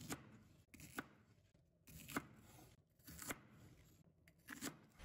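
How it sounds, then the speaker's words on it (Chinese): Knife chopping the roots off small green leafy vegetables on a cutting board, a handful of crisp close cuts spaced about a second apart with quiet handling sounds between them. "我们先用刀把青菜的根部切去不要"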